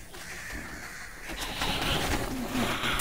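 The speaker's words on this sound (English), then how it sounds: "Aha, we have the birds." Birds cooing and calling in the background of The Lord of the Rings: Gollum, pigeon-like coos and crow-like caws over a steady ambient wash, moderately distant.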